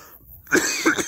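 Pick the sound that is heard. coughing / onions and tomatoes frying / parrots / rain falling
coughing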